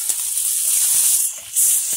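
Minced garlic hitting a hot pan gives a bright, steady hiss close by, swelling again partway through, with a few faint knocks underneath and no talking.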